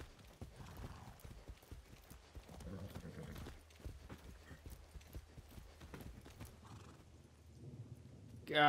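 Hooves clip-clop along with a horse whinnying in Far Cry 6, all set against quiet background noise and faint sound effects.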